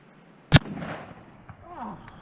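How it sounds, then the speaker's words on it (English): A Smith & Wesson 500 pistol fires one loud, close shot, a sharp blast followed by a short rumbling tail and faint background sounds, with no talking. "I'm gonna shoot it."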